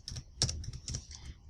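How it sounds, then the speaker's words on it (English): A web address is typed on a computer keyboard: a quick burst of close key clicks with irregular rhythm, one sharper keystroke standing out, no talking. "So we're going to type"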